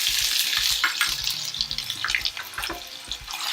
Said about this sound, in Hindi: अब हम इसमें डालेंगे अदरक लहसुन का पेस्ट 1 चम्मच